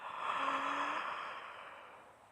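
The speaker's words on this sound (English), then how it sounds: "opening the mouth really wide and doing a lovely big yawn" A long, drawn-out yawn with the mouth opened wide during a yoga class, breathy and steady, swelling early and fading slowly over a couple of seconds, alone with no talking.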